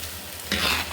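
Homemade oil being stirred in a pan for a herbal preparation, a soft steady scraping and light sizzle that grows louder halfway through and holds, close by with no talking.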